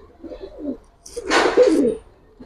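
Pigeons, Giribaz and colored military breeds, coo close by, a short soft murmur followed by a louder throaty rolling coo, with no talk.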